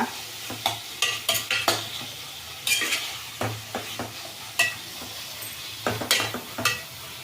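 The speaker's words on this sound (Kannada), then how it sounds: "ಈ ಹೀರೆಕಾಯಿ ಎಲ್ಲ ಚೆಂದಾಗಿ ಎಣ್ಣೆನಲ್ಲೇ ಫ್ರೈ ಆಗಲಿ ಹೀರೆಕಾಯಿ ಬೇಗ ಫ್ರೈ ಆಗುತ್ತೆ" Sliced ridge gourd frying in oil in a pan, heard alone as a steady low sizzle broken by repeated sharp clinks and scrapes of a spoon stirring, irregular and close.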